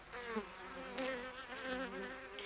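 Paper wasps (Polistes) buzz near their nest on stones or dry grass in an old quarry, a steady, faint droning hum that wavers in pitch as the insects fly close to the microphone.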